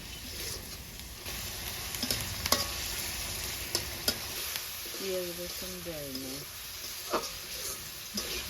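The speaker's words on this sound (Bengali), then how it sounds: "এবার সব কিছু একত্রে 3 মিনিটের মতো কষিয়ে নিব।" Dried surma fish and mixed vegetables stir-fried in a pan, a soft continuous sizzle with scattered clicks of a spatula against the pan, faint and close, with a brief tonal squeak partway through.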